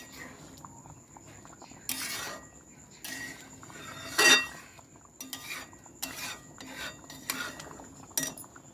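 Cooked dalia khichdi is scooped from a pot into another vessel, with a few separate metallic scrapes and clinks of a spoon against the metal, close and fairly quiet over a low background hum.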